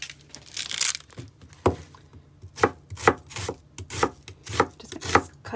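A knife slicing an onion thin on a cutting board, with a series of crisp, close chopping taps in an uneven rhythm, heard alone without talk.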